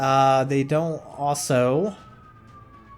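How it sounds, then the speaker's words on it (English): Speech fills the first two seconds during World of Warships gameplay, then a thin, steady real-world siren tone lingers faintly in the distance as the talking stops. "did not want to listen to a siren going off in the background"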